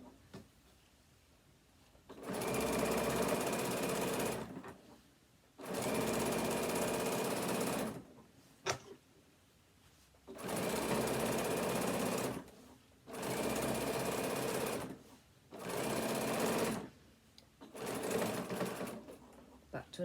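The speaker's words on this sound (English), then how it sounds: "carry on stitching along that fold" A sewing machine stitches along folded fabric binding on a phone stand, running in six or seven loud, steady bursts of about two seconds each, separated by short pauses with faint handling noise and brief talk.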